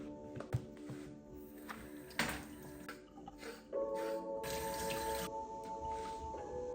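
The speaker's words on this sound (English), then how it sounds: "We're gonna wash and grate them." Carrots are washed under a running kitchen tap, with drips and splashes first and then a steady stream of water, close and fairly quiet.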